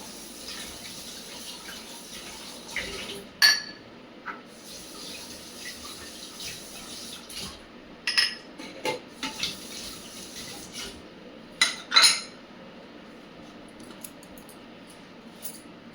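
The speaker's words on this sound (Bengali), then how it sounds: "চলো এগুলো এখন ধুয়ে নিই সব" Dishes and pots washed in a home kitchen under a steadily running tap, with a continuous water hiss broken by scattered clanks and knocks of utensils, close and moderate in volume.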